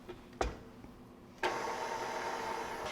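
An electric mixer switches on with a sharp start and then runs in a steady, loud whir, preceded by a brief knock and quiet room tone.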